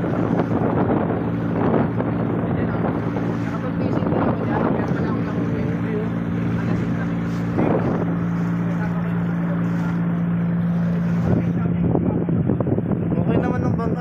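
A large wooden boat motors across open sea, its engine droning steadily throughout under gusty wind noise buffeting the microphone, with occasional voices nearby.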